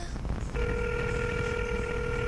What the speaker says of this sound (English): we're going to call him right now on the air and see if they answer the phone